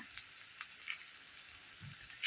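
Chopped onion and garlic fry in a pan for a simple home-style Bengali dish. A faint, steady sizzle carries scattered small crackles and pops, and nobody speaks over it.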